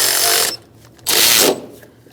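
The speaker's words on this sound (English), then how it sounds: "Now we're going to tighten up this bolt and our adjuster" An alternator adjuster bolt on a 2010-2013 Kia Soul 2.0L being tightened, heard as two short loud bursts of a power tool or ratchet whirring up close with a brief quiet gap between them.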